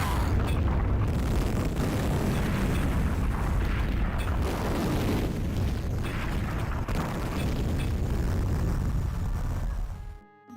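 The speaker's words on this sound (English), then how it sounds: "he made the explosions, they're chunky sounding" Dense, distorted explosions from the Duke Nukem 3D Oblivion total-conversion mod roar continuously, loud and clipped, like a rolling barrage of chunky blasts with almost no gaps, cutting off abruptly at the end.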